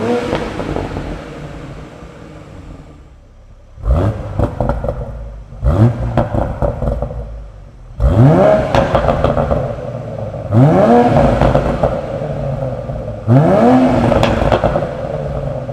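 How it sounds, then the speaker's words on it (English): Static revving from a Mk5 Toyota Supra's B58 engine through a Supersprint OPF-delete exhaust: after an idle, five loud, close throttle blips in quick succession, each spiking and falling back with a crackle. "So the Supersprint sounds pretty good static revving."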